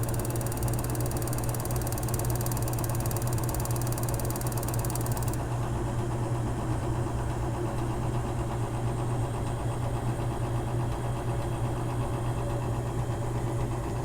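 A Mr. Heater Big Maxx gas heater runs with a steady, loud, even hum and constant roar, unchanging throughout with no voices.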